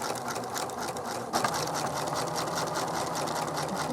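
A sewing machine stitches a small fabric piece for a stuffed toy, running steadily up close with a fast, even mechanical whir and a slight bump in pace early on.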